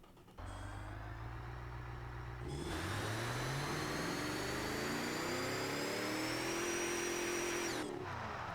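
A 1985 muscle car with multi-point fuel injection, simulated in BeamNG, idles with a steady low rumble, then revs up and holds a rising, droning engine note before cutting back, loud and alone.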